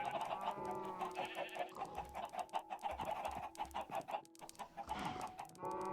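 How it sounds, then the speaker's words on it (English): Chickens in the Minecraft video game cluck and squawk repeatedly in a busy, close run of short calls, with a few rooster-like notes among them. "Chickens!"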